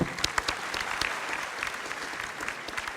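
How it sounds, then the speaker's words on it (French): An audience claps steadily, a dense, even wash of applause filling the room. "On peut vous applaudir."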